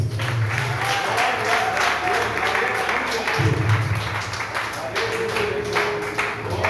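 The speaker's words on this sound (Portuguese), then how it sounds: "Dá uma salva de palmas." Steady applause from a church congregation, loud and continuous throughout, with voices and a sustained tone underneath.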